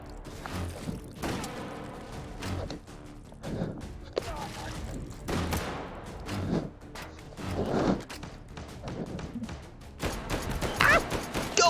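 SMG fire in the H3VR virtual reality shooter, with bursts of rapid shots and thuds scattered through a busy, fairly quiet mix, ending in a denser volley.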